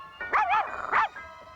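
A cartoon puppy from the classic Smurfs animated series gives two quick, high-pitched yapping barks close up, followed by a brief quiet.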